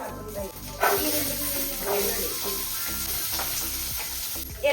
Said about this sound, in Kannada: ಇವಾಗ ಫಸ್ಟ್ಗೆ ಇದಕ್ಕೆ ಜೀರಿಗೆ ಹಾಕ್ತಾ ಇದ್ದೀನಿ